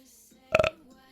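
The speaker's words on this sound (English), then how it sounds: "I can burp on command" A streamer lets out a single short, loud burp on command, a rough voiced belch lasting about a quarter second between quieter stretches.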